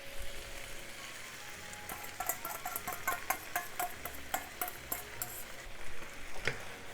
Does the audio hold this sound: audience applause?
no